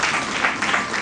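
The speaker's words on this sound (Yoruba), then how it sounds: "àtẹ́wọ́ kọjú fún wọn" Crowd applause for Vodoun leaders at a gathering of the national Vodoun cult community in Benin, a dense steady wash of many hands clapping, loud and continuous throughout the brief moment.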